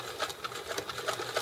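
A Kenmore sewing machine rattles through a short burst of test stitching, its rapid needle strokes repeating in an even rhythm, close and fairly quiet with no talking.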